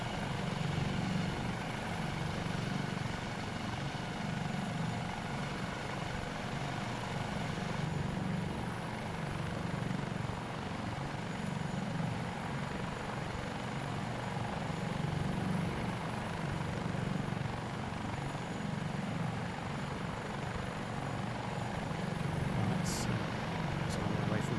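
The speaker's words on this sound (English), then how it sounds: "Helicopter, isn't it?" Simulated AS365 Dauphin helicopter in Microsoft Flight Simulator, a steady rotor and turbine drone that holds at an even level for the whole stretch, with voices talking over it at times.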